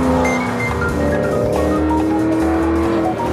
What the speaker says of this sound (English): This is the Ford GT supercar.